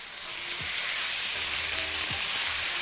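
Chicken pieces frying in butter in a pan while being stirred: a loud, continuous sizzle close up, with a few brief scraping sweeps from the utensil moving the meat and no voices.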